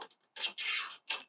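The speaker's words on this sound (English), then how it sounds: "And down here, I pull this nut and bolt out," A metal nut and bolt being worked out of a commercial greenhouse side diagonal brace, heard as a few short scraping, rasping bursts close by with no talking.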